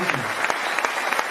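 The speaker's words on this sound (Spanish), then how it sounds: "Un aplauso para la mujer." Brief burst of audience applause at a business opportunity talk, quick scattered clapping from a crowd, steady and moderately loud.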